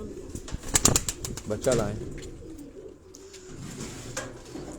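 Breeder pigeons cooing in a loft, a pair of male and female birds, with soft repeated coos layered under someone speaking nearby and brief louder bursts early on.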